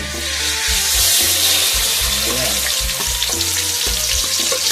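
Nam prik ong chili dip stir-fries in a hot pan, a loud steady sizzle with repeated scraping strokes of the spatula throughout, close and without talk.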